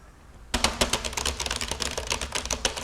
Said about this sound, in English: Gigabyte also added a metal plate under the keyboard so it doesn't flex if you type like Mike.